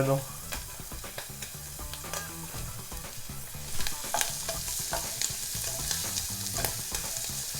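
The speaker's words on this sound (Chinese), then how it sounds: "那我们把那个虾差不多煮好过后，我们就翻面，我们要关火" Shrimp scampi sizzles loudly in a pan, a dense crackle with frequent clicks and scrapes of a utensil against the pan. The sizzle grows busier partway through and no one talks.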